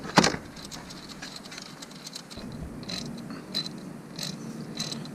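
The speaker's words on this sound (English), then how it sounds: "you can also use a ratchet with a 5/8 socket, which is what I prefer" A ratchet with a 5/8 socket works loose the oil filter on a Harley Electra Glide Ultra Classic motorcycle, giving quick faint clicking and metallic ticks after a sharp clack at the start, fairly close and quiet.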